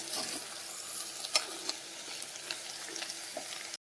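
Small tomato pieces stir-fried in a pan, a steady broadband sizzle with scattered spoon scrapes and clinks against the metal, close and moderately loud, no voices.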